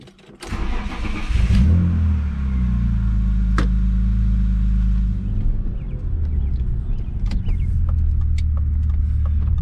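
A BMW M3 pulls away on a neighborhood test drive after a front caliper rebuild, its engine note rising steadily from a low start into a loud, continuous drone with road rumble, heard from inside the car.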